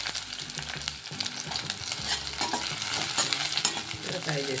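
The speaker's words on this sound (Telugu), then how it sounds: "కడాయి పెట్టుకొని ఆయిల్ వేడైందండి. దీంట్లో మనం ఉల్లిగడ్డ వేసేసుకున్నామండి." Chopped onion fries in hot oil in a kadai, a steady crackling hiss broken by scraping stirs and a few clinking strokes against the pan throughout.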